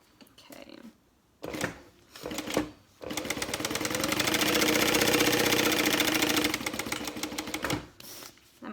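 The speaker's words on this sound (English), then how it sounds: "let's go ahead and sew around this" A sewing machine stitches around a zipper pouch being made into a handbag, with short bursts of stitching that break off and then one long, steady run of rapid needle strokes several seconds long.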